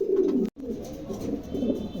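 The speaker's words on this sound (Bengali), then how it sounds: "চমৎকার একজোড়া কবুতর, ভালো লাগলে পারে সংগ্রহ করতে পারেন" A pair of red pigeons coos close by in soft, throaty low murmurs that carry on with one brief break.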